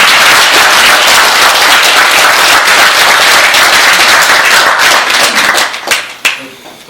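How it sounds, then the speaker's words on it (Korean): Audience applause welcoming the head of the Ministry of Patriots and Veterans Affairs at a Korean commemorative lecture event: dense, loud clapping sustained for about six seconds, then thinning into a few scattered claps before fading out. "여러분 박수로 환영 좀 해주십시오."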